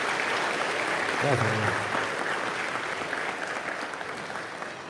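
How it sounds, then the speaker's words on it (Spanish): Audience applause after a speaker in a religious debate, steady clapping from a crowd at moderate level, with someone briefly speaking over it. "Aplauso para el hermano Eduardo."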